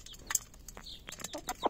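A black Brahma hen clucks softly near her chick in a few short close calls, with faint scratching and rustling between them.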